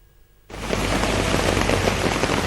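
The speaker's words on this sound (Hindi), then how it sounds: "दिल्ली एनसीआर में बारिश और जलभराव की ये अलग अलग जगहों की तस्वीरें हैं" Heavy rain pours down across Delhi NCR during waterlogging, starting abruptly as a dense, loud, steady roar that fills the scene with broadband hiss and no voices.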